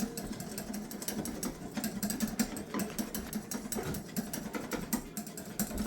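Electric mixer whipping egg whites to stiff peaks for angel food cake, a steady rapid rattling whir with a fast mechanical clatter running throughout at moderate level, alone.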